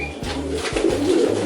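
Pigeons in a breeding cage coo nearby, giving soft, throaty repeated calls over a constant background hum.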